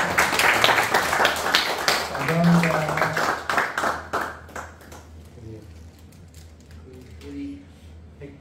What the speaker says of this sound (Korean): 그 격려의 박수를 더 드려야 되겠네요